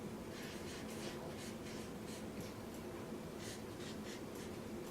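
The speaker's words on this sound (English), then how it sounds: "I'm going to write my words up here real quick for you" Words are written on a board in a quiet room, a faint series of short scratchy marker or chalk strokes coming in bursts, with soft breathing nearby.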